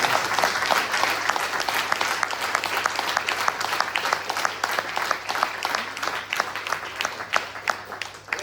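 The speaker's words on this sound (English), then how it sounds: "I request you all to give her a big round of applause for the great." An audience at an abhang devotional concert at a senior living home applauds a singer with steady, sustained clapping over a faint electrical hum.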